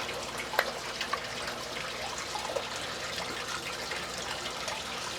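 Water gushes out of aquarium filter pumps in a fish room, a steady broadband rushing flow with a few faint drips, continuous and unbroken throughout.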